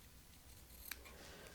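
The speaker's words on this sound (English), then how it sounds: "just run your scissors along the edge" Scissors snip once along the edge of an elastic waistband cut from a cheap skirt, a quick, close, faint metallic click-and-slice against a quiet room, with no talking.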